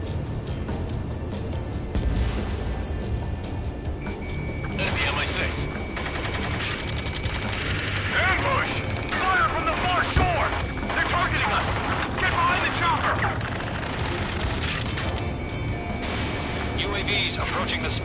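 Ace Combat 7 battle near a space elevator, with sustained gunfire, machine-gun bursts and rumbling blasts filling the scene for many seconds under radio chatter and shouted voices.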